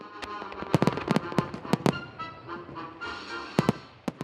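Fourth of July fireworks bang and crackle in a rapid, irregular string of sharp bursts, some close and loud, with a steady crackling rumble between them.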